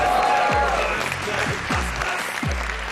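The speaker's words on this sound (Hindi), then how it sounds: "सो आप सबकी तालियों में तशरीफ लाते हैं हारून शाहिद" Audience applause rises to welcome a guest artist onto a comedy talk show stage, steady broadband clapping over music with low booming beats underneath.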